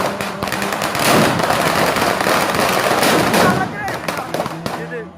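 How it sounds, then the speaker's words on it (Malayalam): Fireworks burst at a Christian church festival in a dense, continuous barrage of loud crackling pops and bangs, thinning into scattered separate reports toward the end. "ഇത് കഴിഞ്ഞൊരു അടിപൊളി വെടിക്കെട്ടും കാണലൊക്കെ ഉണ്ടായിരുന്നു."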